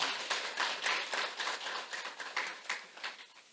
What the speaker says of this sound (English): Please give a big round of applause from Chief Malloy.